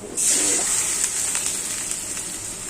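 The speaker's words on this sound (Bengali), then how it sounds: "পানিটা দিয়ে দিই।" Water poured into a pan of browned, spiced onions brings a sudden loud hiss and bubbling that settles into a softer, steady sizzle.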